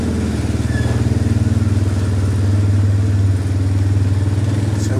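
Farm motorbike with a centrifugal clutch, its engine chugging close and loud in a steady low pulse as the rider eases on the throttle and slowly pulls away.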